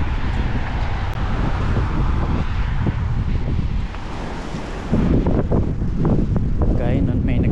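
Icy cold wind blows hard against the microphone outdoors, a loud, continuous roaring buffet that dips briefly before surging back, with faint speech mixed in.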